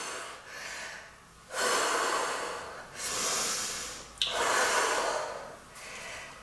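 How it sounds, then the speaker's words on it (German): Deep, forceful breaths in and out during a squats workout, several long airy inhales and exhales close up with no talk. "nochmal kräftig ein- und ausatmen"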